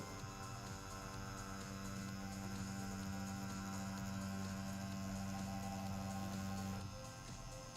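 A tattoo machine with round-liner needles buzzes steadily while tattooing fake skin, a faint, continuous electric hum that barely changes before stopping abruptly near the end.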